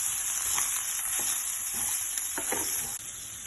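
Pork pieces frying in a pan of well-browned spice masala for a Kerala-style pork dry roast, giving a steady close sizzle with a few soft stirring scrapes.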